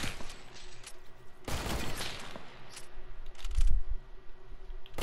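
Video game gunfire from no-scope shots: a couple of sharp, loud bursts with broadband crack, spaced apart over a hissy background, plus a low thump near the end.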